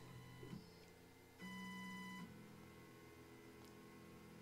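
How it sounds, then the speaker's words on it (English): An Onefinity CNC machine running its touch probe routine, quiet stepper-motor whines and hums as the gantry moves in short bursts, with faint taps between moves, fairly distant with no talk. "It taps down, and then it's going to quickly move to the right and tap that side."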